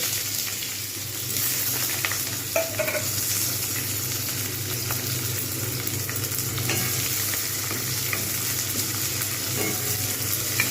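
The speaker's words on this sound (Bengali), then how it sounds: "এগুলো একদম ভালো করে ভেজে নেব, বেশ লাল হয়ে যাবে" Onions frying in hot oil in a pan for capsicum chicken give a constant close sizzle, with occasional soft scrapes of stirring.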